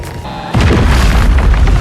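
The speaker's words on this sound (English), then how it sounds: "using a small bomb to blow a hole through it" A small bomb blasts a hole through a rock cave wall, a sudden loud boom that bursts in after a quiet moment and rolls on as a sustained rumbling roar.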